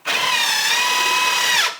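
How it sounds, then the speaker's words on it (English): A power drill runs at a steady high whine for over a second and a half, close and loud, then winds down abruptly, while a kitchen is fitted in an off-grid Alaskan cabin. "Where's your drill?"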